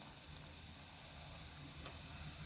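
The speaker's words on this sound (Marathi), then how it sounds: "आपल्याला हे मंद आचेवर तळायचे आहे" Sweet potato gulab jamun balls fry in oil over a low flame, producing a steady, even hiss and sizzle that stays constant throughout, close and moderately quiet.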